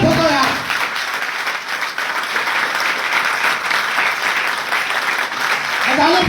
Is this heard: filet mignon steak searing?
no